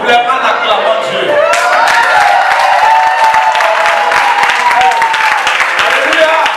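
A church congregation claps and cheers in praise to God, dense rapid applause with scattered shouts rising after a brief lead-in and sustained loudly throughout.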